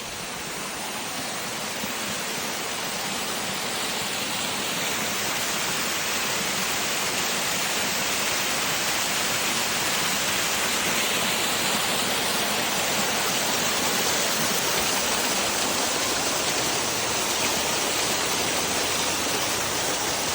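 Steady, loud roar of a waterfall at DeSoto State Park in Alabama, a continuous rushing wash of falling water that fills the whole scene without a break and with no voices.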